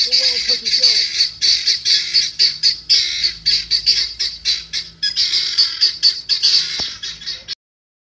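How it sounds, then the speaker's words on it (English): Rapid, repeated squawking calls from wild turkeys, loud and close, going nearly nonstop in a fast choppy rhythm for several seconds before cutting off. "Look, wild turkeys. Go wild turkeys, go."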